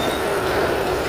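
Train pulling into a railway station, a loud, steady rumble of rail wheels and carriages rolling close by, with no talking.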